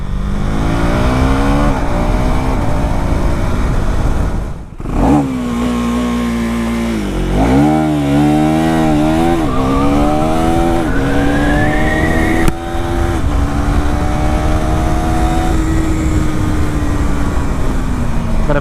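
A KTM Duke 390 motorcycle launches under launch control, its engine loud and close as the revs hold, dip briefly, then climb steadily in pitch through the gears, with no voices.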